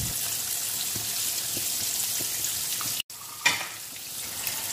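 A spicy egg fry sizzles and crackles steadily in a pan over a low-to-medium flame, with a sharp pop or clatter near the end; no voices.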